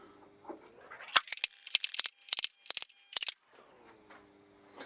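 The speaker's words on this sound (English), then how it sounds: "I'm going to use my centre punch again, just to punch the holes." A centre punch marking screw holes for a hinge in 15mm MDF on a fold-down workbench, heard as a cluster of sharp metallic clicks and snaps in quick succession, close and crisp against quiet room noise.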